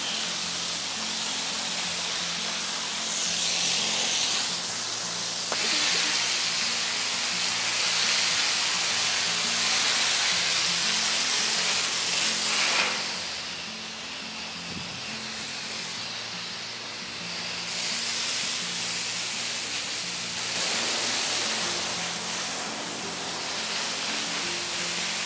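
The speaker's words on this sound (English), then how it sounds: "So now we're going to hose everything down, and then we'll be all done." A water hose sprays steadily while washing down a panda enclosure, a broad, continuous hiss that swells and dips as the stream shifts across surfaces, with no voices.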